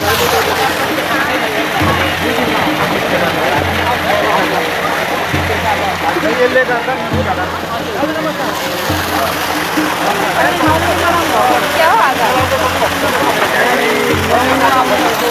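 Rushing water flows loudly and continuously at Dharan, a broad, steady hiss with voices and crowd chatter mixed in around it.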